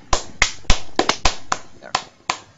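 Nine or so sharp hand claps in an uneven rhythm, close and crisp, with brief silence between them.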